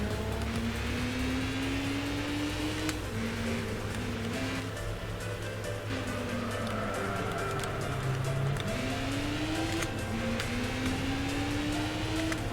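Race cars in Gran Turismo 4 circle the Nürburgring with a continuous engine drone whose pitch climbs and drops through repeated gear shifts and throttle changes. The sound stays steady and close throughout, with no talk.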